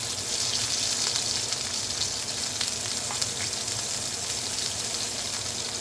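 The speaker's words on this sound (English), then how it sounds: "We're just going to brown these on both sides." Fish and small potato pieces frying in a pan, a steady loud sizzle and crackle throughout with scattered pops, no talk.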